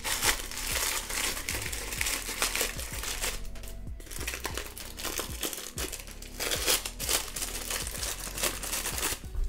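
Paper packaging around rolls of washi tape crinkles and crackles loudly and continuously, with rustling, crumpling and occasional tearing sounds close up and no speech.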